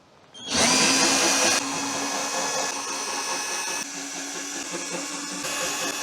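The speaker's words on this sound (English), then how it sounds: "I might need an actual drill to get these off" A power drill starts abruptly and whines loudly and steadily at close range, removing rusty screws on a Fiat Multipla, its pitch dropping slightly as it keeps running for several seconds.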